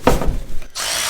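A power tool whirs in short, close bursts while a brake caliper is removed from a Mazda Miata, then settles into a steady hiss toward the end.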